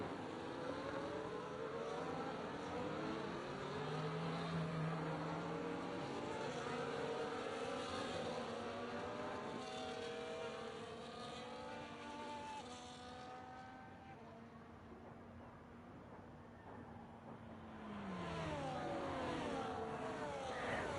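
Formula race cars in an Abu Dhabi Grand Prix racing video game drone along the track, engines whining and shifting pitch as several pass, faint and steady with no talk.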